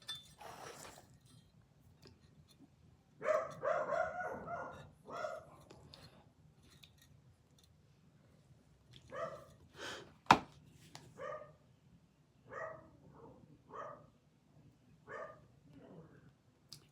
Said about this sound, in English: Sassy dogs.